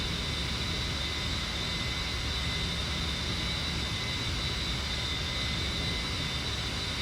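Steady, loud jet engine roar with a broad hiss and a faint high whine from a climbing jet aircraft in the DCS flight simulator, continuous and unbroken with no talking.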